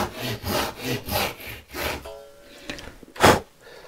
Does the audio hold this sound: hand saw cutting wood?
yes